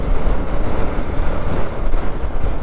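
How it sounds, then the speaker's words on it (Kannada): Strong wind roars and buffets the microphone continuously while riding a Duke 250 motorcycle on a road near Hospet, with a dense, rumbling, unbroken rush. "ಗಾಳಿ ತುಂಬ ಹೊಡಿತಿದೆ, ವಿಂಡ್ ಬ್ಲಾಸ್ಟು"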